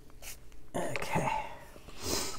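A cough, then sniffling, from someone during an adult coloring session. The sounds come as short, close breathy bursts, with a quieter stretch before a louder burst of noise.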